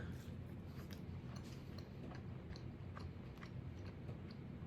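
Soft, close crunching and chewing of a bite of cooked homemade deer sausage, steady and faint against a low background hiss, with no talking.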